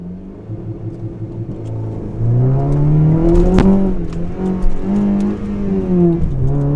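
A Honda Civic with Hondata FlashPro launch control revs and holds against the limiter, then pulls away, engine pitch climbing and wavering with brief pops, loud and close from inside the car, no talking.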